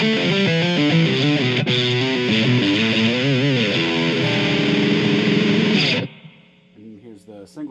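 An Ibanez RG1070PBZ electric guitar on a true single-coil pickup with gain plays busy distorted riffs, loud and bright, then cuts off abruptly, leaving a faint hum and a few softer picked notes.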